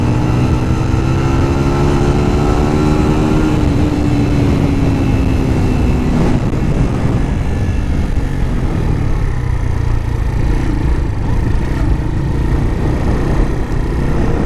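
A 2014 Keeway RKV 125 small motorcycle runs steadily with a quiet stock exhaust, a continuous low engine drone with a slight pitch glide early on and no talk over it.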